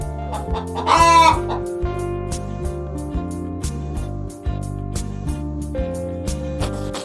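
A hen clucks in short repeated calls over a steady, looping musical backing, with a brief louder squawk near the start.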